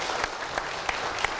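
Applause at a church program, a faint, sparse scattering of claps from a small audience with a few distinct hand claps standing out.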